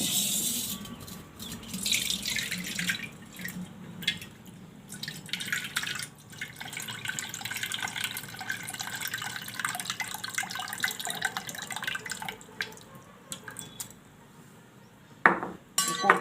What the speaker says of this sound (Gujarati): આ પાણી આપણે કાઢી લેવું